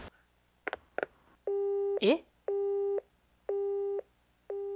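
A phone call in the video game Hayarigami 2 cuts off into a busy signal: loud, steady beeps repeating in even on-off pulses, after a brief cry and a short spoken syllable.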